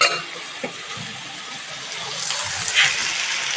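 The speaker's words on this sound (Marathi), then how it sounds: "डाळीच्या कुकरला थोडं इसलो लावलो आहे" Water poured into a pressure cooker holding toor dal, a steady rushing gush with a slight splash near the end, close and fairly loud with no talking.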